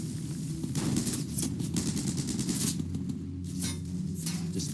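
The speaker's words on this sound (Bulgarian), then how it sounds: "Мърфи продължава да поваля настъпващите германци с картечницата." Machine gun fire in a World War II battle as soldiers fire on advancing German troops, a dense, continuous rattle of bursts mixed with booming blasts, loud and close throughout without pause.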